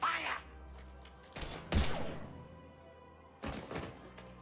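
Gunfire in the video game Mass Effect 3: a few heavy, sharp thumping shots with quieter gaps and faint background noise between them.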